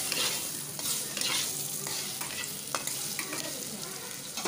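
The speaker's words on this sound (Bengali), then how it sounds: "এর মধ্যে আমি পিস করে কেটে রাখা আলুগুলো দিয়ে দিলাম।" Cut potato pieces frying in hot oil in a kadai, with a dense, steady sizzle and crackle punctuated by sharp pops and occasional stirring scrapes, loud and close.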